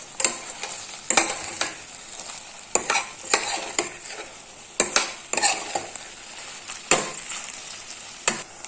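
A spoon stirs okra and egg thoran in a pan, giving repeated scraping clinks at an irregular rhythm over a soft, steady sizzle, close and fairly quiet.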